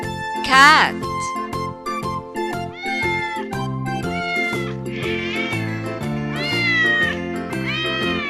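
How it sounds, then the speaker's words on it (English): A domestic cat meows several times in clear, drawn-out calls, close and prominent over steady background music. "Cat."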